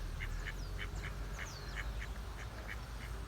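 A pair of whistling ducks quack and whistle in a quick, even series of calls from close by over a low background rumble.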